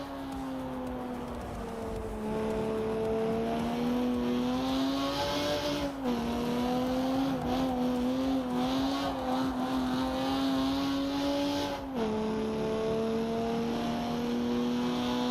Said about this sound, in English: I would say the rear exhaust sound is the most complete sound.